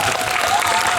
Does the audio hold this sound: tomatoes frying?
no